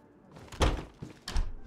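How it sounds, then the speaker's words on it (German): A door in the DayZ survival game, giving a few dull wooden thunks and knocks that rise out of quiet background noise. The sounds are close and moderately loud, with no speech. "das hat schon wieder gedauert, bis die Tür hier aufgeht"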